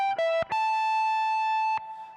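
An electric guitar lick rings out with a clean, bell-like chime reminiscent of a doorbell: a few plucked notes, the middle one sustaining with a bright, even tone before a final pick attack fades.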